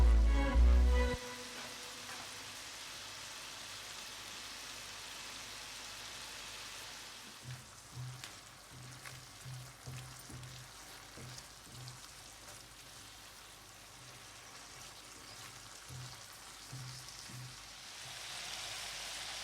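Keema curry simmers in a home kitchen pan, giving a faint, steady sizzle and bubbling with a few soft clinks along the way.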